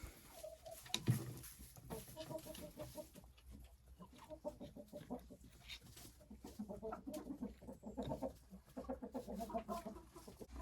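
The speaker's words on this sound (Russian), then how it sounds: "Там сидит курица, она все равно туда лезет." Hens in a nest box at a country-house coop cluck softly in repeated short bursts, close by but quiet, with a faint background hum.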